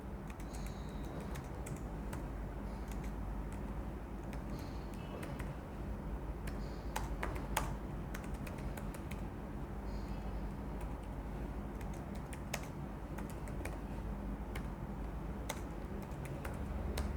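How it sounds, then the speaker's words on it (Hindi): A university name being typed on a computer keyboard, soft continuous key clicks at an uneven rhythm with occasional sharper taps, fairly quiet and close, no talking over it. "आप यहाँ पे खुद अपना यूनिवर्सिटी नेम टाइप कर सकते हो"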